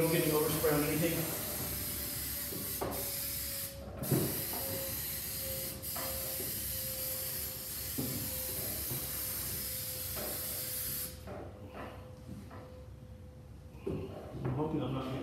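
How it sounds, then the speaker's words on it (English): Spray paint hisses onto a drone frame in bursts at close range, with brief pauses and clatter between sprays, going quiet in the last few seconds. "I'm just gonna spray this"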